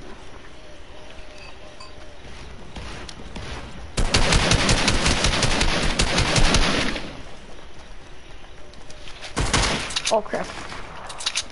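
Video game gunfire crackles in two loud bursts, a sustained volley in the middle and a shorter one near the end, while a player reacts aloud.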